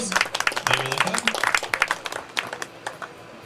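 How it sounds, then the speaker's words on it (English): Audience applause at an Alabama Bass Trail bass fishing weigh-in on Smith Lake, with scattered claps rising and thinning over a few seconds as a voice talks over the crowd. "Round of applause."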